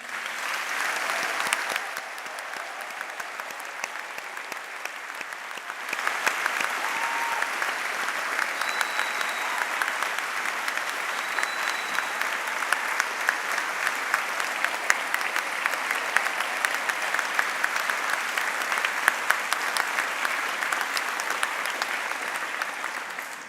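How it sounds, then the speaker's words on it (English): A large hall audience gives a final round of applause at a university graduation ceremony, a long, even roar of many hands clapping that builds slightly and holds steady for over twenty seconds. "I'd like to ask you all to offer a final round of applause"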